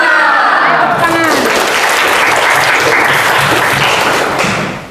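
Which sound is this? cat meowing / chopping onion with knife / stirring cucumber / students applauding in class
students applauding in class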